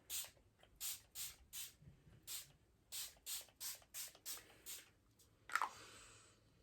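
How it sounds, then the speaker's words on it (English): Repeated short bursts of BioClarity Dewy Dew Multitasking Mist with rose and witch hazel sprayed onto a face, about a dozen close, crisp hissing pumps in a steady rhythm, with no talking. "I am just going to use some BioClarity Dewy Dew Multitasking Mist with Floralux Rose and Witch Hazel. And just spray my face."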